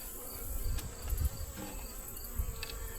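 A faint, steady buzz of honeybees hums throughout from close by in a swarm box hive, with soft rustles and low thumps underneath.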